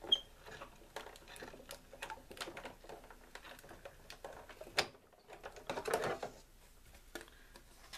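A Sizzix BigShot die-cutting machine cranking a fabric sandwich through its rollers gives a quiet run of irregular ticking and clicking, with a brief louder grinding burst toward the end.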